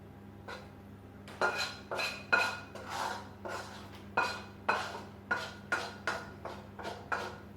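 A spoon stirs spinach and meat lasagna filling in a wok, giving a series of close metallic scrapes and clinks in an irregular rhythm, each stroke sharp and then fading, with no talking.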